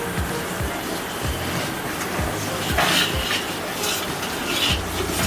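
Spice paste of oil, ginger, onion and garlic being stirred in a pan, a steady rhythmic scraping and rubbing with a soft sizzling hiss underneath, close and continuous.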